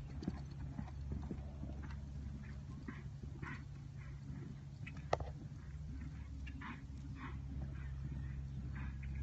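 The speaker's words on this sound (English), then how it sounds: "And this is the little horse loping in circle." A small horse lopes in a circle, soft rhythmic hoofbeats at a distance over faint outdoor background noise, with occasional light knocks.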